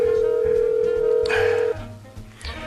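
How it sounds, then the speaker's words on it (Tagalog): A cellphone rings indoors with one loud, steady electronic tone that holds for under two seconds and then cuts off, leaving quieter room sound behind it. "nagre-ring na ang cellphone ni Marisa."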